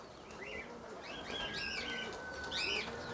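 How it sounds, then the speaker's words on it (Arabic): A copper-coloured pigeon beats its wings in short bursts while trying to fly, with chirpy bird calls rising over a steady, close rustle of flapping. "شوف الحميمه تما كيفرفر النحاسيه كتفرفر كدير محاولات باغا طير"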